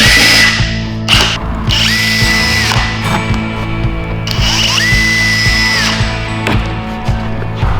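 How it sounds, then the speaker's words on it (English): A power drill boring a small pilot hole in a Jeep Wrangler tailgate, its motor whining loudly and close in several bursts, with pitch dropping as it bites, rising as it frees, and clicking ticks between pulls. "I'm going to drill a small pilot hole."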